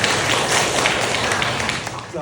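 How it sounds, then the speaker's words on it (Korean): Audience at a residents' meeting on apartment reconstruction claps in a dense, sustained round of applause, a crowd of hands filling the hall and tapering off toward the end. "박수 한번 드리겠습니다"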